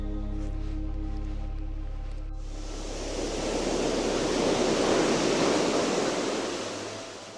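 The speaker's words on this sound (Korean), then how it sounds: "파도가 부서지는 것이 꼭 크림 같습니다" Waves break and wash up on Teriberka beach in the Arctic, a steady roar of surf swelling and receding after a few seconds of low drone, with no voices.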